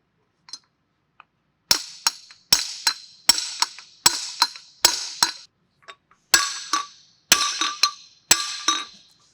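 Steel hammer striking a bearing driver to seat a bearing on a pump shaft during an HXL Series pump rebuild, giving about a dozen sharp metallic blows in an uneven rhythm, loud and close, each with a short ringing tail.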